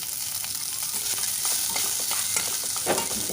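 Sliced onion, ginger garlic paste and sliced cabbage stir-frying over a very high flame, a loud dense hiss with stirring scrapes throughout.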